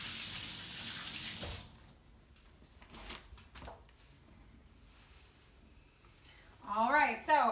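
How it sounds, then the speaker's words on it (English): Tap water runs into a sink for hand washing in a kitchen, a close steady hiss for about a second and a half, then a quieter stretch with a voice talking near the end. "I'm gonna wash my hands because egg is like a meat"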